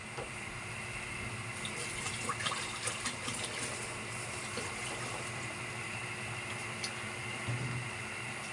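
Water from a watering can pours steadily, a continuous splashing flow at close range with small bursts of splatter, beside a home kitchen where kangkong and chicken skin are being prepared.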